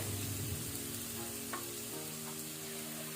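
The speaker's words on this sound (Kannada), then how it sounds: "ಇದರ ಹಸಿ ವಾಸನೆ ಹೋಗೋ ತನಕ ನಾವು ಫ್ರೈ ಮಾಡುವ" Ginger garlic paste fries with green chillies in a pan for green chilli chicken fry, a steady close sizzle with occasional faint stirring knocks and no voices.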